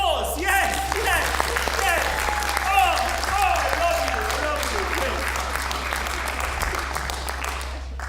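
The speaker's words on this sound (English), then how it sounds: "You may applause!" Applause from the audience at a live slam poetry show in New Zealand, a dense, sustained wash of clapping that holds steady for the whole stretch and fades slightly toward the end.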